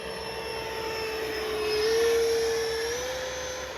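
A Freewing 70mm F9F-5 Panther RC jet with landing flaps down makes a slow low pass, its steady ducted-fan whine rising in pitch and loudness toward the middle, then easing as it passes.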